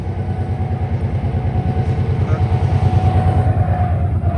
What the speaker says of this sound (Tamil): ட்ரெயின் போற வியூ பார்க்க.